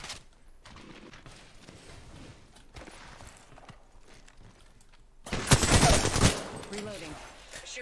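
Gunfire in Apex Legends, with quieter shots and game sounds early on, then a loud close burst of rapid shots near the end, partly under talk.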